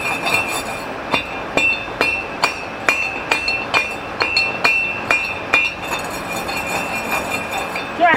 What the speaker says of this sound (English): So I'm gonna finish A through this manual grinder here.